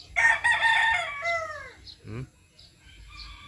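A young rooster (stag) crows once nearby, a loud ragged call trailing off after about two seconds, followed by a low cluck and faint background farmyard noise.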